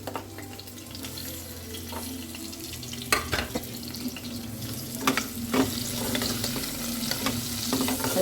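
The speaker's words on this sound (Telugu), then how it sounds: "ఉల్లిగడ్డ, పచ్చిమిర్చి ఇవన్నీ వేసేద్దాం." Onion and green chillies fry in a pan with a steady moderate sizzle, broken by several clattering stirs of a spatula against the metal.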